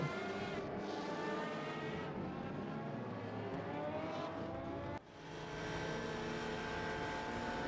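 Race car engines in sim racing at Monza, a high-pitched onboard engine note that holds a steady scream, rises through the gears, briefly drops on a shift, then climbs again.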